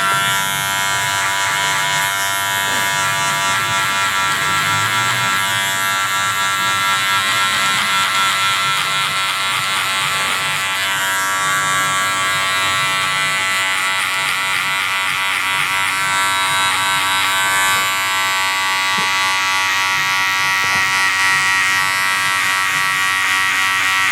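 Electric hair clipper with a number 1 guard cutting hair for a military fade, a continuous close buzzing drone with slight shifts as it moves over the head, no talking.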